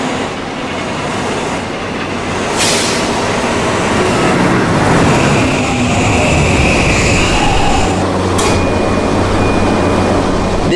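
A New York subway K train, an R160B, rumbles loudly and steadily at 10th Street station, wheels clattering on rails with a brief high squeal, no speech.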